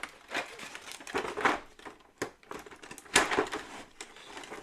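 Sticky tape is handled close up in irregular bursts of crinkling, peeling and rustling, with short pauses between the louder tugs and crumples.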